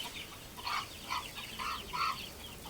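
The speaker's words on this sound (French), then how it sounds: "J'entends tes poules quéqueter." Hens cluck softly in short bursts, four quick calls spaced about half a second apart, faint and a little distant.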